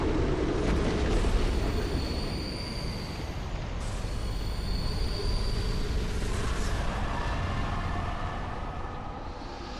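A boss's magic explosion effect in Dark Souls 2: Scholar of the First Sin, a long, heavy roaring rumble with a hissing, rushing layer that stays loud and sustained across the stretch, with no one speaking.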